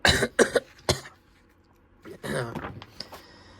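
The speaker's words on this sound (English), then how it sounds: "I need to clear my throat" A few harsh throat clearings and coughs up close, in quick bursts, followed by a pause and another rough clearing with a grunt.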